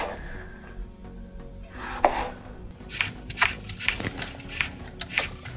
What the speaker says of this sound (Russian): Вот нарезаем тоненькие, где-то, наверное, по миллиметр-два.